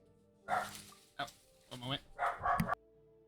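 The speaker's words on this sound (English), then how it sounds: "Dog was barking up a storm." A dog barks several times indoors, sharp loud woofs in short bursts spread over a few seconds, with brief quiet gaps between them.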